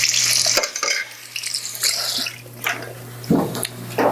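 Tamarind dressing for a fruit salad stirred in a bowl, with wet swishing and clinking strokes at an irregular pace, close by, over a low steady hum.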